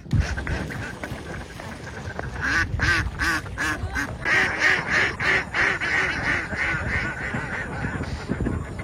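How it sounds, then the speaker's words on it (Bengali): Many ducks quack at a large duck farm beside the Chalan Beel wetland in the morning, a dense, overlapping chorus of loud, rapid quacks that swells in the middle. "সকাল যখন হলো তখন হাঁসের ডাকে ঘুম ভাঙলো আমাদের। পাশেই একটি বিশাল হাঁসের খামার।"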